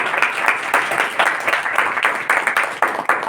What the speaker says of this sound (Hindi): सिस्टर भी ताली चाहिए।